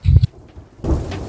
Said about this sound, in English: Hooray! It's raining.